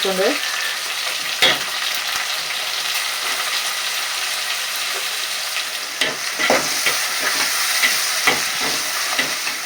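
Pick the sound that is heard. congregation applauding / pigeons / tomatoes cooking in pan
tomatoes cooking in pan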